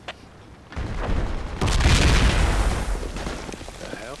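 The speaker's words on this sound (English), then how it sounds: "Throwing grenades into the smoke" Grenades thrown into smoke during an online shooter game burst in a heavy, rumbling blast that swells and lingers for a few seconds after a softer opening, loud and close with low booming texture.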